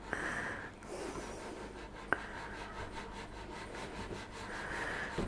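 A knife steadily scraping and sawing through chocolate around a template for a Christmas cottage, a soft, continuous, close rasping with one sharp click partway through.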